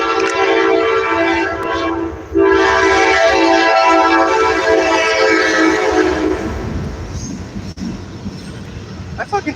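A train passes right next to a house, loud and close, with a long blaring horn over rumbling wheels. The noise fades slowly as the train moves on.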